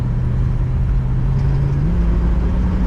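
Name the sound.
1964 Chrysler 300 Convertible engine rumble while driving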